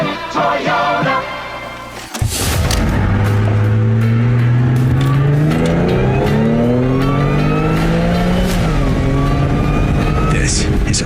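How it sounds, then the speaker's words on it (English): A supercharged car engine revs hard and holds a loud, sustained roar, with a rising blower whine sweeping upward over the engine note. It comes up close after a brief stretch of other sound. "I love the blower noise on that"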